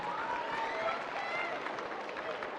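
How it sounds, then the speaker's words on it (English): Audience applause at a middle-school presentation, a steady wash of clapping with some cheering voices mixed in, fairly close and continuous throughout. "Give me a big round of applause."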